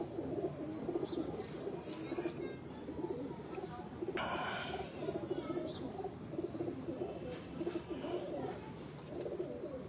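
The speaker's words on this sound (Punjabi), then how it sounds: "ਇਹ ਵੱਡੇ ਕਬੂਤਰ ਦਾ ਹੀ ਪੁੱਤਰ ਆ" Pigeons cooing at a Faisalabad breeder's loft, soft repeated coos in a busy background with people talking nearby.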